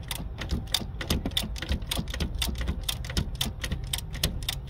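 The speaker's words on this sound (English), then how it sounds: "I'm only able to do one little click at a time." A ratchet wrench working a high-mileage spark plug one notch at a time, a fast, steady run of sharp, close metallic clicks repeating evenly across the whole stretch.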